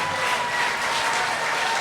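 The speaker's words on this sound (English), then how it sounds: "Could we give them a round of applause?" Applause from a crowd at a town hall meeting about Maunalua Bay in Hawaii, a steady wash of many hands clapping at moderate volume with no pause.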